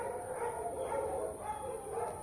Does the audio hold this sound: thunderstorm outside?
no